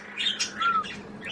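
Baby budgie chirping in short, high tweets while learning to perch, with a few bright calls and soft rustling close by.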